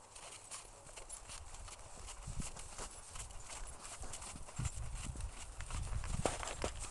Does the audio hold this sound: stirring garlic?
no